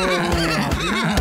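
A horse neighing in the Minetest MineClone5 video game: one loud, close, wavering whinny lasting about a second, with no talk over it.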